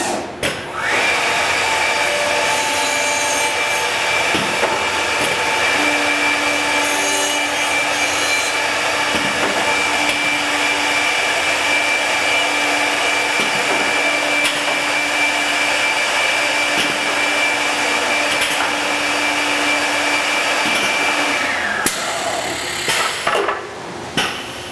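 A 995-H jamb routing machine runs its chisels through wood, a loud, steady, whining drone with a high tone that holds for about twenty seconds, then cuts off abruptly into small clatters.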